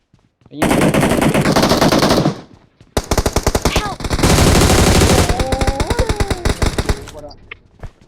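Rapid bursts of automatic gunfire in PUBG Mobile, loud and sustained with a short pause, with speech faintly mixed in near the end.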